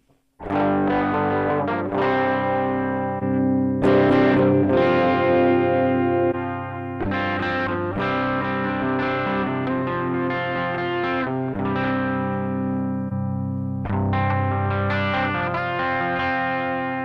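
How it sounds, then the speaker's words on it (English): Heavily distorted electric guitar chords from a Zoom G1 effects pedal through a 4x12 cabinet simulation ring out loud and thick, with a full, bassy tone and sustained notes changing every couple of seconds. "you can hear the 4x12 is supposed to add a lot of bass"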